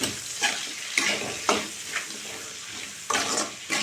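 Dried fish and onions fry in a pan, a constant close sizzle broken by about six sharp spatula scrapes at a roughly even pace.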